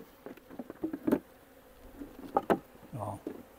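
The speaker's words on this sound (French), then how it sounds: "j'ai des abeilles qui sont rentrées" Honeybees at a hive being set in place, faint buzzing in short bursts and flybys with scattered soft taps and knocks.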